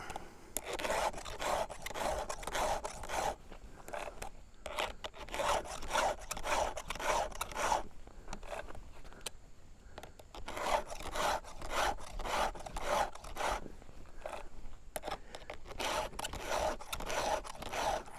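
A file rasps across a chainsaw chain to sharpen it, in repeated quick rhythmic strokes grouped in bursts with short pauses between. Close and clear, with no talking.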